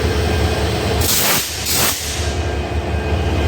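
Broad gauge diesel locomotive idling at a station beside the Burimari Express, a loud continuous rumbling engine drone with a hissing surge in the middle, close by and steady throughout.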